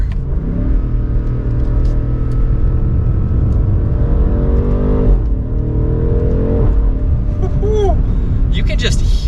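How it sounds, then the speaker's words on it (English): A 2023 BMW M8 Competition Gran Coupe accelerates with a loud, rising engine and exhaust note that drops sharply at each gear change, followed by brief pops, all under continuous talking inside the car. "You can just hear that exhaust like instantly when you shift gears."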